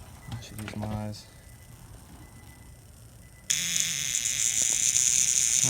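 A faulty fog light relay chattering as its contacts shake open, a harsh continuous buzz starting partway through and running loud to the end, preceded by brief talk.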